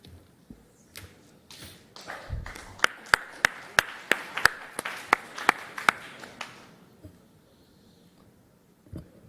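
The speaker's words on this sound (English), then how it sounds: "I presume you were clapping" A small group claps at a medical symposium, with a short, sparse burst of distinct, crisp claps in an even rhythm that soon fades into room quiet, with some faint rustling and a lone thump near the end.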